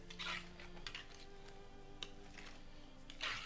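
Soft, faint scraping and stirring of vegetables being mixed into okonomiyaki batter in a bowl, with a few light clinks of utensil against the dish and brief wet swishes, close and quiet.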